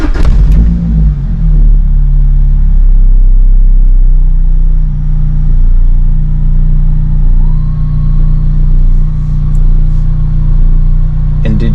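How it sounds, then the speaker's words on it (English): Lotus car engine cranking and catching after a few clicks, then settling into a steady low idle rumble, close and loud, with a faint rising whirr later on. "Then I'll start the car."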